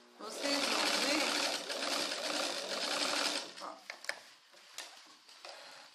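Sewing machine stitching the outer seam of a pair of trousers, a fast continuous mechanical whir that runs loud for a few seconds, then gives way to quieter clicks and handling sounds.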